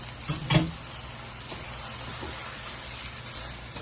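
Fried onions cooking in hot oil with spices while a chicken pulao is being made, a steady soft sizzle with a couple of louder stirring clatters near the start, then a low, even frying hiss.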